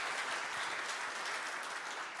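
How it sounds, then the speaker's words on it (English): Conference audience applauding at a Baltic defence event, a dense, steady wash of many hands clapping, fairly faint and distant, with no voices over it. "Please give another round of applause for Mr. Budini."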